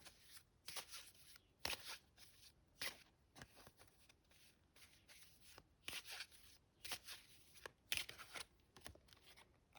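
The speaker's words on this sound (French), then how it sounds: "je recommence à mélanger mon jeu" A deck of tarot cards is shuffled by hand, quiet and close, in repeated bursts of riffling and sliding with short pauses between them.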